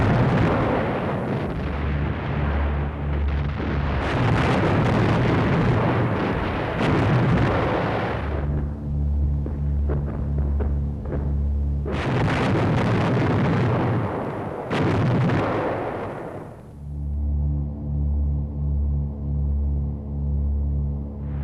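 Wartime bombing of the front line at Monte Cassino, heard as heavy, rumbling blasts and roaring bursts that come in long waves, with quieter droning stretches between them and no voices.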